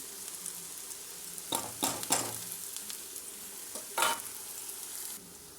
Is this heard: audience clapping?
no